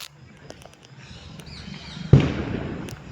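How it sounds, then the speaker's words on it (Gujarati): Diwali firecrackers bursting outdoors: scattered faint distant pops build into one loud, sharp nearby bang with a crackling tail, followed by more distant pops. "અત્યારે બહુ જ ફટાકડા ફૂટે છે મેં કીધું બ્લોગ બનાવું જો અવાજ આવતો છે તમને"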